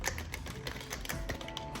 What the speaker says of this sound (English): I'm gonna try to shuffle this one more time.